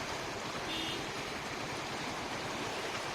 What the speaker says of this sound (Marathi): इथून इतका भरगच्च ओढा हा वाहतोय